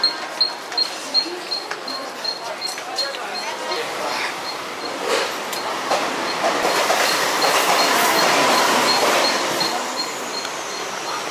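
A Mumbai commuter train running on the rails toward Churchgate: close, loud rhythmic clatter of wheels building into a steady rushing rumble, with brief voices early on.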